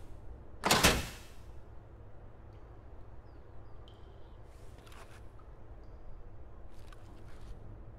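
Door slamming shut in the video game Escape from Tarkov, one sharp, loud thud near the start, followed by quiet ambient noise and faint rustling.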